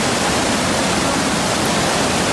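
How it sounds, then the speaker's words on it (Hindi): Floodwater rushes through submerged city streets in Hyderabad during heavy rains, a loud, steady, dense roar of flowing water with no pauses and no voices. "ये शहर में बहता हुआ बाढ़ का पानी है"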